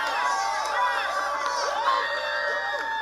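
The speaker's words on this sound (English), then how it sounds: "I wonder how much they paid those people to cheer." A large crowd cheers and shouts with high whoops and rising calls, a continuous roar of voices held at a steady level throughout.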